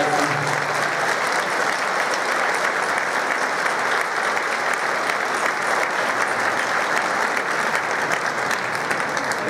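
A seated audience at a book presentation claps steadily and loudly throughout, a dense even roar of applause with no pauses.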